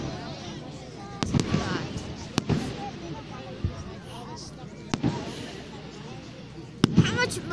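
Fourth of July fireworks in Greenfield, Massachusetts burst outdoors, several sharp separate bangs spaced a second or more apart with faint crackle between, along with people's voices in the background.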